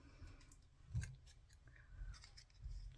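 Pink Uniquely Created scissors snip through card in a few crisp cuts, one sharp close cut standing out, then two softer snips later, with no talking.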